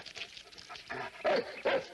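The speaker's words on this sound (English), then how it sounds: "Want to see our new dog?" A guard dog barks at a remote, isolated home, a few loud close barks and yips in quick bursts, with louder barks near the end.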